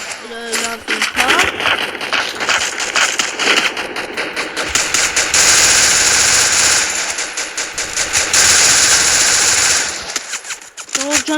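Rapid automatic gunfire from a weapon in a video game, loud bursts of dense repeated shots that rattle on and off, swelling into a long sustained volley in the middle while someone talks over it.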